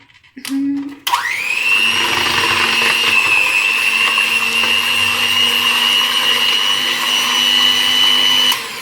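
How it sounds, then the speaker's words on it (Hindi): Electric hand beater whirring through cream for making homemade desi ghee, starting with a brief burst and then a loud, steady high-pitched motor whine that runs continuously before cutting off. "अब हमने बीटर से इसको बीट करना है"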